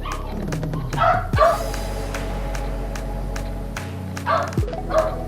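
Dogs barking in a Chinese village, several sharp barks and yips in short bursts close by, with a low engine-like hum underneath.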